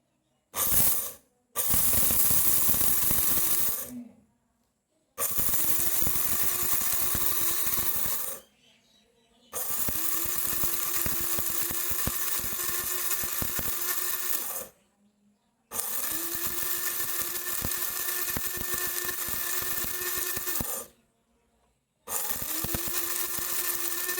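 A mini mixer grinder grinding rice runs in four loud bursts of whirring and rattling motor noise, each a few seconds long, with short silent pauses between them.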